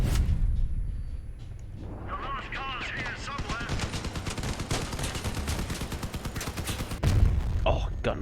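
Cannon fire from combat vehicles in the video game Crossout booms in rapid repeated bursts under steady gunfire and rumbling engines, with a brief metallic ringing early on and a louder blast near the end.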